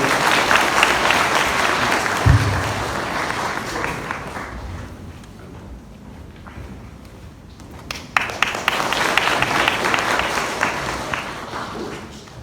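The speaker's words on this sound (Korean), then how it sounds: "큰 박수로 환영해 주십시오" A school audience at a high school admissions information session applauds to welcome a student speaker, clapping that fades in the middle before a second burst of claps rises again toward the end.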